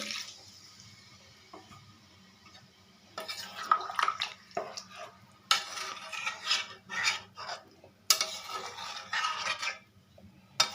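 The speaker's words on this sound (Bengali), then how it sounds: "একটু জল দিয়েও দেবো।" Water poured into a pan of spiced potato curry: a quiet room hum at first, then several bursts of splashing, sizzling and bubbling as the liquid hits the hot pan, with brief clinks of the pan.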